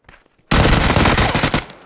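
Sustained automatic gunfire in the PUBG battle royale video game: after a brief quiet moment, a loud, dense burst of rapid shots runs for over a second before tapering off.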